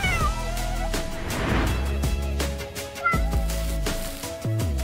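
A pregnant cat meows several times in short, close, clear calls, with faint rustling and no voices.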